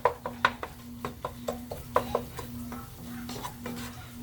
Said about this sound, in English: And you stir it for a couple minutes.